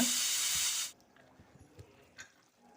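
Steam rushes out with a loud, close hiss for about a second as a pressure cooker of chicken curry is slowly opened after four whistles, then cuts off to quiet clinks and faint kitchen noises.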